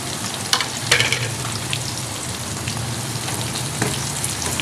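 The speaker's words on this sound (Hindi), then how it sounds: "प्याज को जो है हम हल्का गोल्डन कर लेंगे," Finely chopped medium onions frying in a pan, a steady close sizzle with a few sharp spatters and stirring scrapes, no talk.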